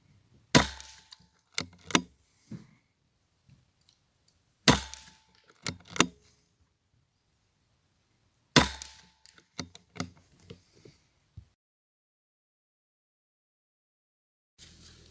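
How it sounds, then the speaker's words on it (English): Daystate Red Wolf air rifle fired off the bench from the magazine at 35-yard targets: three quick bursts of sharp cracks, each followed by a few lighter clicks of cycling and distant target hits, separated by silence, with no talk. "This is fast shooting, out of the magazine, off the bench."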